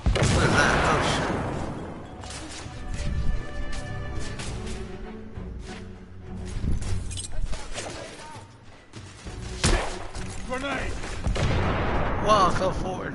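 Grenade explosion and gunfire in The Order, heavy booms and scattered shots mixed with rumbling impacts, while people talk over the chaos.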